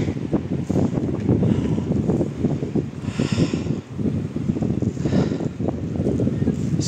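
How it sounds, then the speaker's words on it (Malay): Strong wind gusting on a mountain trail near Pangboche on the route to Everest Base Camp, a loud continuous roar buffeting the microphone, rising and falling in surges. "Angin agak kuat ni."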